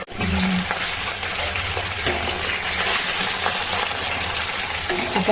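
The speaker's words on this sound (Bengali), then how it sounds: "আর ভাজা হোক, আমি একটু চাপা দিয়ে দিই।" Pabda fish frying in spiced oil in a pan, a loud steady sizzle and crackle that runs throughout with no speech.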